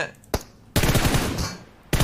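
Automatic weapon fire in a PUBG Mobile team deathmatch final: a single sharp shot, then a loud sustained burst of rapid gunfire lasting about a second, and another sharp shot at the end.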